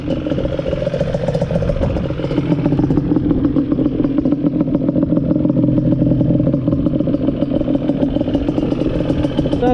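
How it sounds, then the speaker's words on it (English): A Yamaha Banshee 350 trail bike runs close by at the dunes, its two-stroke engine idling loud and steady with a rattly clatter and slight rises in revs throughout. "This is my trail bike."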